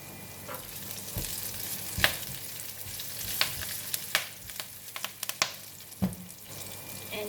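Chili and curry leaves frying in hot oil, a soft continuous sizzle punctuated by sharp spits and pops and the occasional scrape of stirring, heard close with no voices.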